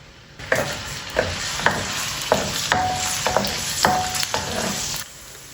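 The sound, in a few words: bitter gourd frying in a pan until brown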